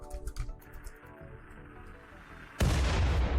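A mortar fires during a siege in the video game Rimworld. A loud, sudden boom comes near the end and rolls on, after quieter low rumbling.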